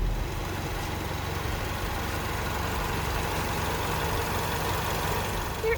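A 2023 Ford Mustang EcoBoost Premium engine idling, a steady low hum that holds evenly throughout at moderate level, with no talking.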